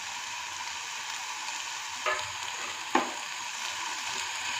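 Chopped onion, tomato and green chili fry in hot oil with a steady, even hiss, broken by two brief scrapes of stirring near the middle.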